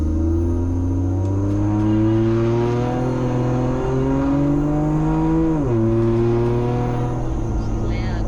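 A turbocharged Barra-engined 80 Series Land Cruiser, still without a muffler, revs hard on a dyno. Its loud, raw engine drone climbs steadily for several seconds, dips sharply for a moment, then pulls on, close and continuous.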